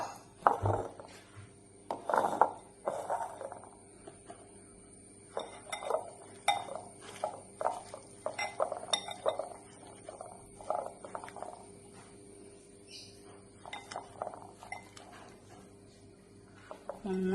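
Chickpea salad dressed with lime water and olive oil is tossed in a bowl, giving a run of soft clinks and scrapes of utensil against dish in a quiet room.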